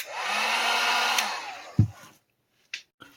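Heat tool blowing on a leather blaster holster to seal it, a steady breathy roar with a whining tone that runs about two seconds, then cuts off with a thump, followed by a couple of small clicks.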